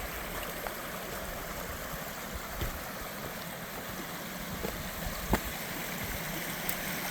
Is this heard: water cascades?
yes